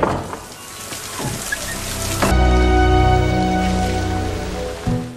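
Heavy rain pouring down at night, a dense, loud and continuous hiss of falling water that swells and deepens partway through, with no voices.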